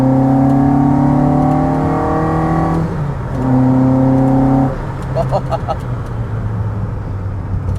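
From inside the cab, a VW Mk1 Caddy engine fitted with twin Weber 45 carburettors revs up in long rising and falling pulls, loud and droning, then settles to a rougher idle with a few sharp crackles.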